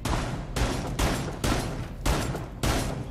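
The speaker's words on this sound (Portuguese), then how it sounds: "Faz um buraco com a 12. Várias vezes, vai." A shotgun blasts repeatedly at a wall in the Rainbow Six Siege video game, six loud booming shots spaced about half a second apart, each with a sharp attack and a short decaying tail.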